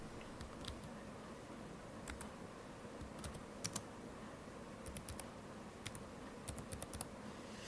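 Typing on a computer keyboard while writing in Notepad, a quiet stream of soft key clicks with occasional sharper taps over a steady background hiss, with no one talking.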